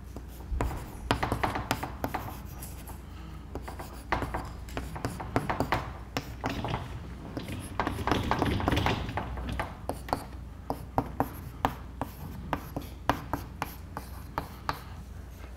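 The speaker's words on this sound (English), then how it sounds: "I write down the Schrodinger equation once again." Chalk or marker scratches steadily across a board as an equation is written out in a quantum mechanics lecture, a dense run of close, rhythmic strokes and taps over a constant low room hum.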